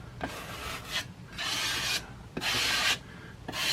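Filler being scraped over small holes in drywall, heard as several rough, rasping strokes in a steady rhythm, each lasting about half a second to a second, close and clear with no talking.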